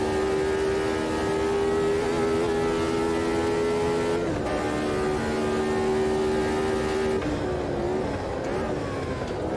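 A high-revving V8 race car engine in the Automobilista 2 racing game at Road America drones loudly and steadily, holding a high pitch with brief shifts in revs as the car runs.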